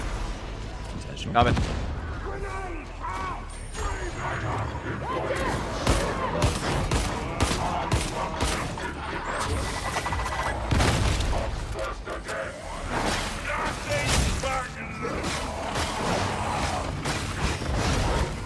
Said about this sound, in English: I shoot my gun a lot.